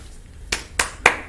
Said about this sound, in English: Let's give our flag bearers a round of applause this morning